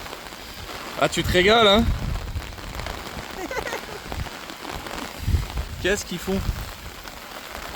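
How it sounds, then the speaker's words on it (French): Steady rain patters throughout on the Isle of Skye, while people talk and laugh close by over it. "on arrive sous la pluie comme vous pouvez le constater"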